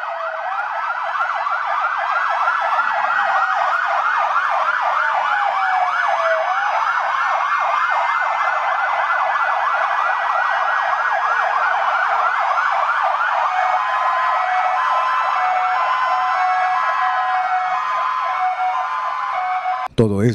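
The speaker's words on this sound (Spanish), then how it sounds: "las sirenas de ambulancias de la Cruz Roja y de unidades de auxilio del heroico Cuerpo de Bomberos comenzaron a sonar por un minuto" Red Cross ambulance sirens and fire department sirens wail together at a public square in Xalapa during a commemoration of the 1985 earthquake, loud overlapping rising and falling tones sustained for about twenty seconds before cutting off.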